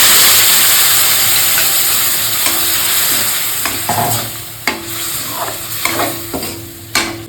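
Hot oil tempering with cumin and dried red chilli is poured into a pan of chicken, bursting into a loud hissing sizzle that slowly fades, followed by scattered close stirring clicks and scrapes.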